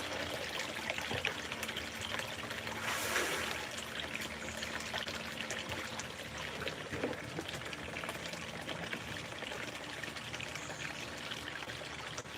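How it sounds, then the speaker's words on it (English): Buckets of sluice tailings are emptied during backyard gold sluicing, giving a continuous watery pouring and splashing that stays steady and fairly close throughout, with no talking. "I gotta empty them tailings."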